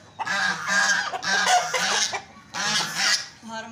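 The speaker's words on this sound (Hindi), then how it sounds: "बत्तख और मुर्गे की लड़ाई हो रही है" A duck and an Aseel rooster squabble loudly, harsh honking squawks arriving in three close bursts with brief pauses between them.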